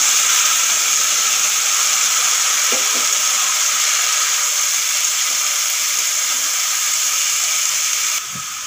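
Cut, washed sita phol (pumpkin) pieces go into a hot pan with dried red chillies, giving a loud, steady sizzle and hiss that holds for several seconds before easing slightly at the end.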